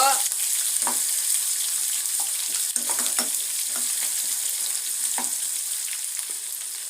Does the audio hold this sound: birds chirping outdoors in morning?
no